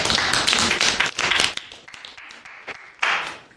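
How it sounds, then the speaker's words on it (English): A group of JROTC cadets claps in a round of applause, loud and close at first, then thinning into scattered individual claps before a brief final burst. "All righty, round of applause"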